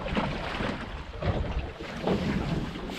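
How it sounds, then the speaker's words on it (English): Steady wind buffets a fishing boat out on the water, a constant roaring rush with gusty swells and low rumble at close range, and no voices. "it has dropped down a little bit, the wind"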